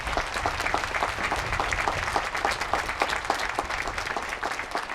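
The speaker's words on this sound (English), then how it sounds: "please give her a especially warm round of applause" Warm, sustained applause from a large commencement audience honoring a university provost at her final ceremony, dense steady clapping filling the hall for the full stretch.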